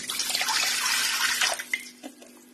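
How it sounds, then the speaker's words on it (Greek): Tap water runs and splashes into a bowl or container as the first step of a homemade Italian pizza dough, a steady loud pour that thins out into a few drips and trickles near the end. "Πρώτα βάζουμε το νερό μας."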